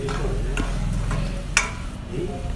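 Dry-roasted masala powder fries in oil for chole curry, a soft continuous sizzle with scattered clicks and scraping stirs, one sharper knock midway, and faint talk in the background.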